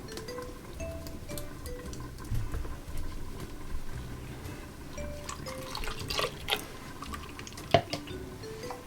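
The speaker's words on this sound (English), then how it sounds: "pour this into our mixing jug." Milk pours and trickles into a mixing jug with soft splashes and drips, uneven and fairly quiet, with a few sharper clinks near the end.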